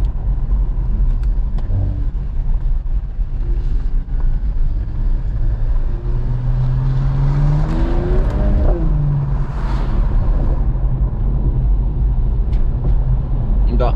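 A Mercedes E53 AMG driving through city streets, engine humming steadily inside the cabin and climbing in a rising rev partway through, with voices talking over it.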